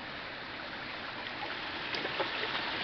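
A small waterfall at a rocky riverside spot rushes steadily as stream water flows past, a constant broadband wash with a few faint splashes rising near the end.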